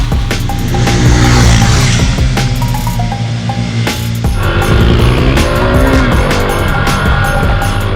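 A motorbike roars loudly on an empty road during a fast delivery ride, downshifting and skidding with tire squeal amid continuous engine noise and wind, close and intense throughout.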